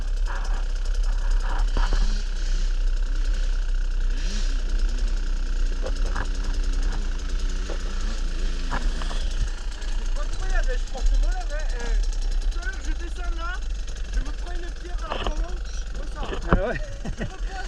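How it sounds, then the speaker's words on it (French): A 2024 KTM 125 XC-W two-stroke dirt bike runs close by, its engine note rising and falling in revving sweeps, with steady low rumble throughout and a voice talking over parts of it. "le moteur il chante vraiment ce qu'il faut quoi"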